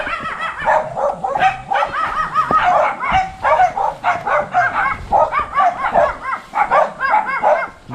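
A dog barks repeatedly on a mountainside, a run of sharp, close yapping barks and yips in quick bursts that goes on steadily for several seconds.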